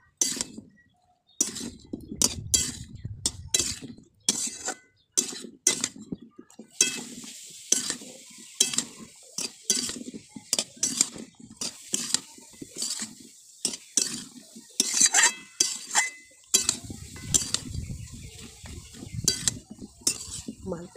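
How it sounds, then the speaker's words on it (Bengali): A metal spatula scraping and clinking in a bowl as food is mixed with mustard oil, a steady series of stirring scrapes and taps, close and clear, with faint sizzling in places. "আমি এই যে চিটকি দিয়েই মাখিয়ে নিচ্ছি ভালো করে"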